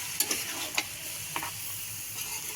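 A spoon stirs spiced masala loosened with a little water in a pan, giving soft scraping strokes over a steady low sizzle, close and fairly quiet, with no voices.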